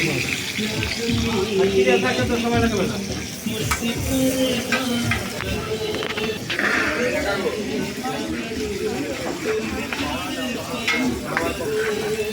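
Food sizzles loudly in a pan at a street stall in Faridpur, stirred with repeated scraping strokes, while people talk nearby.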